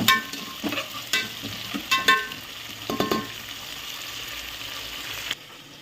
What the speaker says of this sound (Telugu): మంచిగా బ్రౌన్ కలర్ అయ్యేంత వరకు అయితే వేయించుకుంటా ఉల్లిగడ్డ.